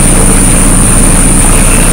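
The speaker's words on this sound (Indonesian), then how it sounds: "yang bagian di atasnya kamar mesin, sehingga di sini suaranya mesin sangat terasa" Steady broadband mechanical rumble from the engine room below the rear of deck 2 aboard the passenger ship KM Barcelona 3, a loud continuous drone with a constant high whine and no voices.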